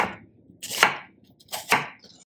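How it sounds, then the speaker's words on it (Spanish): A knife cuts vegetables into small pieces on a board for chicken teriyaki, two crisp, close chopping bursts about a second apart against near silence. "Cortamos por la mitad y ahora a trocitos."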